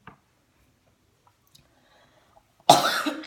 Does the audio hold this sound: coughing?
yes